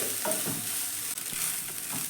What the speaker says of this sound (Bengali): সয়াবিনটা খুব বেশি ভাল ভাজবো না আমি হালকা করেই ভেজে নিলেই হয়ে যাবে